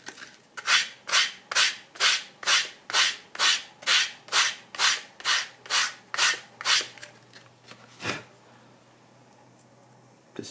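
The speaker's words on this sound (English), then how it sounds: "So first with 150 grit sandpaper, I'll try to roughen it" 150 grit sandpaper roughens the edge of a piece of shell cordovan leather in about fifteen even, rhythmic back-and-forth strokes, close and crisp, then stops after a last lone scrape.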